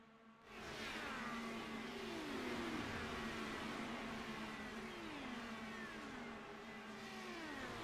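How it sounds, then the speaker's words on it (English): A pack of simulated race cars at Indianapolis Motor Speedway in iRacing drones together down the front stretch, with engine pitches rising and falling in overlapping sweeps, steady and moderately loud with no talk. "Great looking shot of all the cars on the track right now, heading down the front stretch"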